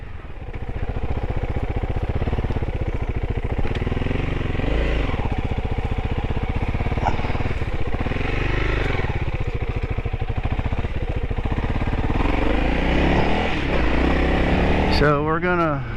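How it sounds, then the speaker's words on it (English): A Honda CRF300L motorcycle engine runs steadily and fairly close throughout, its pitch rising and falling as it revs, with a brief clatter near the end. "So we're gonna run the trails with the motorcycle"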